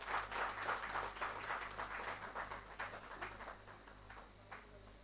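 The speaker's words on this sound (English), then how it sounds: "Can we have a huge round of applause, everybody?" Applause from the audience at the 107th Annual IEA Conference at MMDU, Mullana, scattered clapping at moderate distance over a low steady hum, fading gradually over five seconds.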